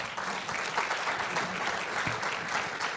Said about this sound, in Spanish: un aplauso también para Manuel